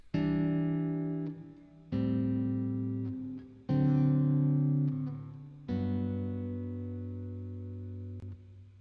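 Four sustained seventh chords on guitar ring out one after another, each strummed and left to decay, with a few faint string noises between them.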